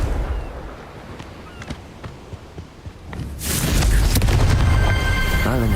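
A Confringo fire spell explodes in the Hogwarts Legacy video game. A few faint clicks and thuds lead to a sudden loud blast about halfway through, followed by a sustained roaring rumble until the end.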